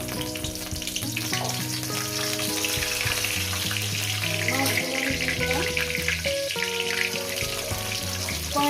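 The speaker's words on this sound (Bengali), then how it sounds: "মাছটাকে আমি সুন্দর করে ভেজে নিচ্ছি" Fish sizzles steadily in hot oil with dried red chilies in a pan, cooked for a mustard-greens mash. The frying noise is loud and continuous for the whole stretch, with a steady tonal hum running underneath.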